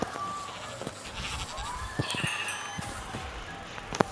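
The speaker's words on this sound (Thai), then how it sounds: "นั่นไงเจอแกะแล้วตัวหนึ่ง" Sheep bleating in the video game Minecraft, several short game-sound bleats repeating across the clip over a busy background of other game noises.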